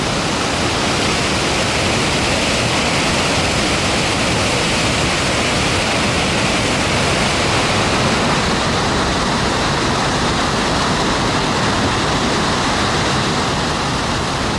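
Balls Falls, a waterfall in the Niagara area of Ontario, roars as a loud, dense, unbroken rush of falling water that holds steady from start to finish, with no voices.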